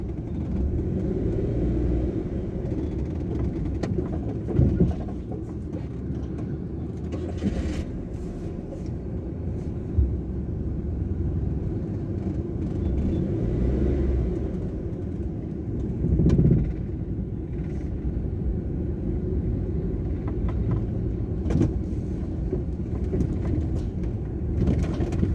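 A car engine runs during a driving lesson as a steady, low rumble inside the cabin, with road noise and occasional small bumps continuing throughout and no clear change in pace.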